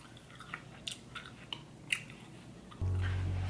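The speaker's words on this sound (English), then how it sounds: "bite this apple. Some people don't like green apples, but I like them." Crisp bites into a green apple followed by chewing, with several sharp crunchy bursts up close in a quiet room before a steady loud hum cuts in near the end.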